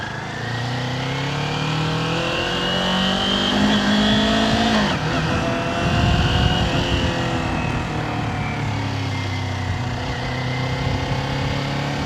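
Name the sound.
Kawasaki Ninja 400 motorcycle engine revving while riding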